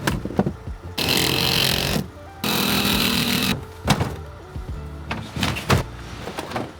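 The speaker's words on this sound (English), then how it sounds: "And I figure I might as well put the air compressor to the test." A small 2-gallon onboard air compressor in a work truck runs in two short, loud buzzing bursts, followed by scattered clanks and knocks of gear being handled nearby.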